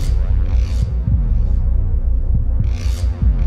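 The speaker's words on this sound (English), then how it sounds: "The thumps got darker and louder and thicker and deeper and faster." Deep, heavy throbbing thumps pound in an irregular rhythm over a dark, loud hum, with occasional hissy swells above, a monster-like sound effect filling the whole stretch.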